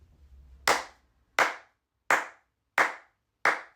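Five slow, deliberate single hand claps ring out one by one at an even pace, each sharp and isolated with silence between them.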